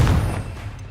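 A Confringo fire-blast spell in Hogwarts Legacy hits with a loud, close, booming burst that decays quickly into a low rumble. The blast is short and heavy and is heard alone.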